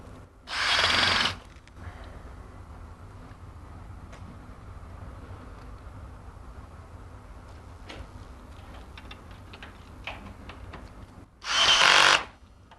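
A power drill drives screws into a Red Sea MAX S aquarium stand during assembly: two loud, short whirring bursts, one at the start and one near the end, separated by quiet room noise.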